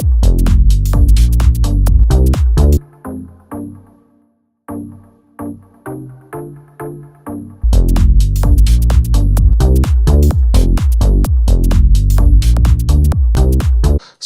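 Punchy EDM Chicago-style chords from the Logic ES2 synth stab in a fast rhythmic pattern over a heavy beat, drop to a sparser quieter stretch of chord hits partway through, then come back in full and loud.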